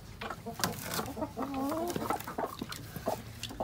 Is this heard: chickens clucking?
yes